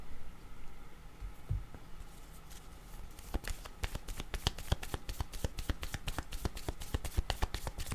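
Cards being shuffled for a reading, quiet rustling at first, then a fast run of crisp riffling clicks that grows steadier and continues to the end, close up and fairly soft.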